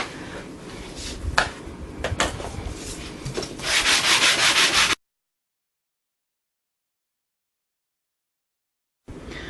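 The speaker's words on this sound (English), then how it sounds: "I'm going to sand it with a sanding block" A sanding block rubs steadily back and forth over an embossed card for about five seconds. Silence follows, then the rubbing briefly resumes at the end.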